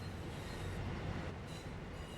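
Train rumbling along the track in the simulator game Train Sim World 6 while it brakes to a stop, a steady low mechanical roar with faint wheel hiss, continuous and fairly quiet, with no voices.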